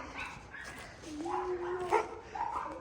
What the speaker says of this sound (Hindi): ये ऐसा मुझ पे भौंका है